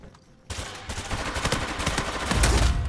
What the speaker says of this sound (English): Get out of here with blind fire, bro.